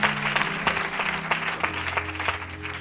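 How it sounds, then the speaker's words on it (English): A church congregation claps during a healing prayer service, a dense steady patter of many hands with organ or keyboard tones sustained underneath, fairly loud throughout. "Let's clap for Jesus."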